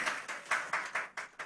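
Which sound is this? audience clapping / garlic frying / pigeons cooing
audience clapping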